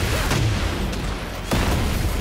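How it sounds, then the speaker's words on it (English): In a fighting video game, a wall explosion hits with a dense, booming burst that fills the whole moment. A second sharp impact lands near the end over a loud, rumbling low end. "I get fucked by the wall explosion"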